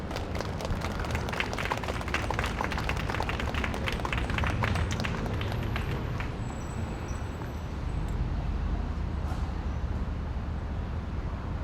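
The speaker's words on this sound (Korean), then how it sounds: "따뜻한 박수 부탁드리겠습니다" Audience applause at an outdoor memorial culture event marking the third anniversary of the Itaewon disaster, a dense steady patter of many hands clapping at a distance, easing off after several seconds.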